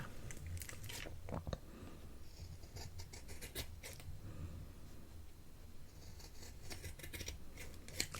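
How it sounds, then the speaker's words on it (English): Scissors snip craft paper for a seahorse project in soft, close, crisp cuts, clustered in irregular bursts over a quiet, hushed background. "let's trim that down since I don't have much there"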